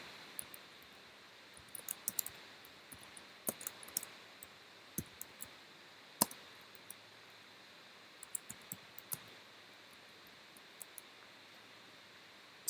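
Scattered keystrokes on a computer keyboard while an address is entered, quiet sharp clicks in irregular small bursts over a faint steady hiss, with no voices.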